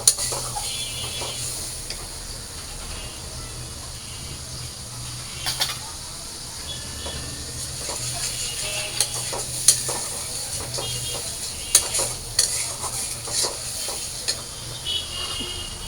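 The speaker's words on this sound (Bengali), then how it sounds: "তো মশলাটা ভালো করে কষায় নিই, তারপরে সবজিগুলো দিয়ে দিব।" Spice paste mixed with onion paste frying in a pan while being stirred, a low steady sizzle broken by repeated scraping and clinking of a utensil against the pan.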